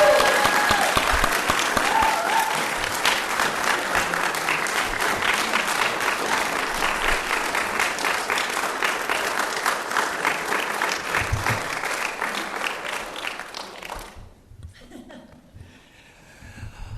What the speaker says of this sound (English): let's absolutely clap